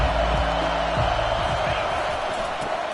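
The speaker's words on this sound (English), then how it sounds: "This crowd bringing the energy and noise early." Stadium crowd at a football game, a steady dense roar of many voices filling the space throughout, loud and continuous with no single voice standing out.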